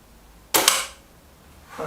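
A Reximex Zone air rifle fires a single pellet shot, a sharp close crack followed by a short fading tail, with a fainter sound at the very end.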